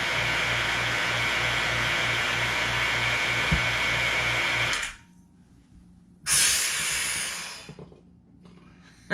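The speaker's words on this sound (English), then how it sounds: "I think we have a leak. I think I can hear some air escaping." A vacuum pump runs with a steady broadband hiss and low hum, cuts out abruptly, then bursts back with a loud hissing rush of escaping air that fades away.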